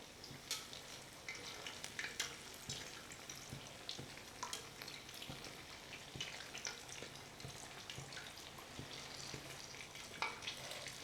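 Cheese-filled gluten-free empanadas made with arepa dough fry in a pan, giving a continuous soft sizzle with small crackles and pops throughout, steady and close with no talking.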